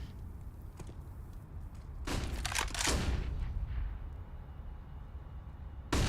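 Bursts of rifle fire in Counter-Strike: Global Offensive, a few rapid clustered shots punching through a wall, loud and close, with quieter game ambience between and a sharp final report at the end.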